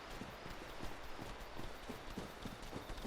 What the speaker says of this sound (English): I can hear the footsteps. I'm still being chased.